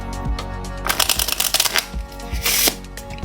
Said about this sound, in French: On va venir mélanger un petit peu le paquet,